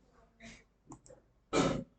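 A computer mouse is clicked during spreadsheet work, with a few faint taps and then one sharper, louder click, all close and quiet with no talking.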